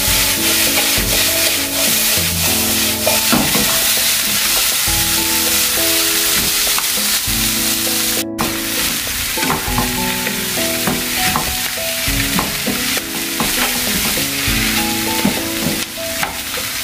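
Yakisoba noodles fry and sizzle in a pan as they are stirred, with repeated scraping and tossing strokes over a steady sizzle and a brief gap midway.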